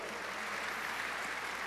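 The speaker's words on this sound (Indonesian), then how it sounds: "let's give the Lord a big hand. Berikan tepuk tangan bagi Tuhan." Congregation applause during a church service, a steady, dense wash of clapping that holds at an even level from start to finish.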